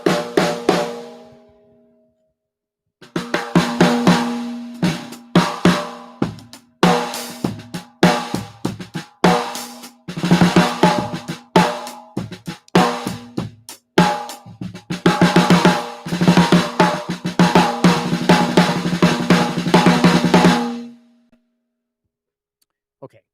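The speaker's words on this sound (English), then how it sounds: "It's a 6 Ludwig drum. It's got a lot of ring." A 1965 Ludwig Pioneer snare drum is struck wide open with no muffling, giving repeated sharp hits and rolls with a strong sustained ring and tonal overtones. The playing runs for about seventeen seconds, then the ring fades into silence.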